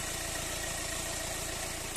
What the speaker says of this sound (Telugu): ఇంజన్ సౌండ్ మాత్రం ఇట్లా ఉందండి